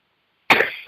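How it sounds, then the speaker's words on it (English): A single sharp, close cough bursts out after silence, followed by the start of another. "Actually, I was coughing."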